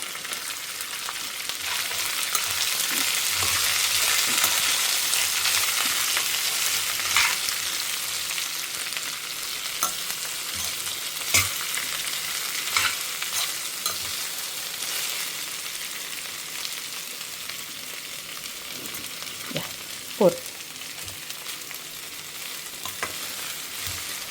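Vegetables sautéing in hot oil for Tamil eggplant kuzhambu, with okra just added: a steady, close sizzle with occasional stirring scrapes and small clicks, no voices.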